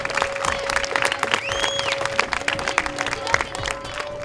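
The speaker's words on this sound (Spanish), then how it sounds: "Un aplauso, que es nuestro regalo." Audience at a children's reading event clapping, loose scattered claps over a steady tone, with a brief high whistle-like sweep partway through.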